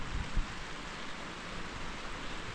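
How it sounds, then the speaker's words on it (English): Light drizzle falls on a pickup truck bed canopy in McCarr, Kentucky, a soft, steady hiss of fine drops tapping the shell, with a few duller knocks near the start. "A little light drizzle."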